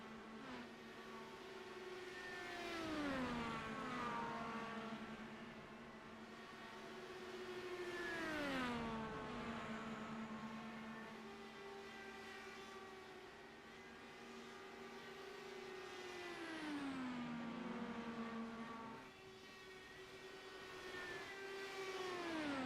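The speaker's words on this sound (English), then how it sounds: "You do hear that speed, that engine RPM come down just a bit." A race car engine during an oval race, the steady drone sliding down in pitch through turns 3 and 4 and climbing again on the straights in repeated cycles, heard at a distance and fairly faint.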